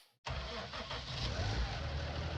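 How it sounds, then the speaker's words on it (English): A baler tractor engine in Farming Simulator 19 cranks and catches abruptly after a moment of silence, then settles into a loud, steady, rumbling idle with no talking. "We'll just warm up the baler tractor as well, get that fired over."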